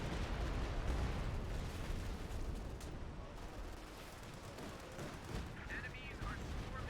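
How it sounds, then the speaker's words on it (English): Stuka dive bomber strike in Company of Heroes 2, a dense, continuous roar of explosions and rattling gunfire filling the whole stretch, loud and close, with battle chaos layered throughout. "Stuka strike."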